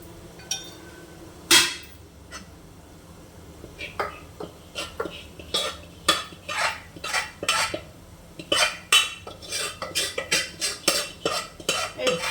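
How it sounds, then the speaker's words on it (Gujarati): Dhokla batter going into a plate for steaming, with a run of close clinks and scrapes of a spoon against metal dishes that grows busier and more rhythmic toward the end, no talk over it. "એમાં આપણે બધું ખીરું નાખી દઈએ"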